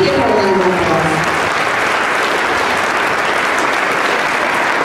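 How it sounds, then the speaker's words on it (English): Steady, loud applause from a school concert audience for a 5th–12th grade instrumental and vocal music performance, dense clapping sustained evenly for about five seconds, with a voice briefly heard at the start. "Please give her a round of applause"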